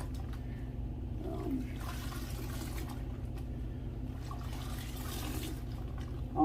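Tap water runs into a sink while a gray fox skin is rinsed, a steady, moderately loud rushing flow that continues throughout with a few faint splashes and no talking.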